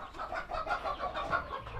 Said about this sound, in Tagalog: nandito na tayo sa kwan uh, farm ni Sir Joel ayan na yung mga manok niya oh